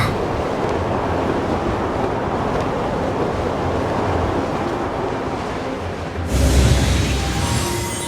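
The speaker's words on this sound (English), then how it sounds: "Let's ride this wind current" Steady rushing wind current in the video game Genshin Impact, carrying a character across a temple, with a continuous broad whoosh that swells into a louder, brighter gust near the end.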